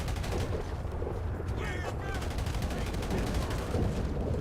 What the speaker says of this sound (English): I'm not liking these assault shotguns that they're carrying.